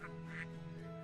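A Fentel duck in the video game Baten Kaitos gives a single short nasal quack, clear and close, over a steady tonal game music bed.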